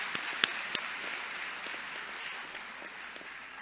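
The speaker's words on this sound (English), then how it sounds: "let's give a big round of applause for our summer school staff" Applause from a graduation ceremony audience, honoring the summer school staff: a steady wash of many hands clapping at moderate distance, with a few sharper individual claps near the start, fairly soft throughout and without talk.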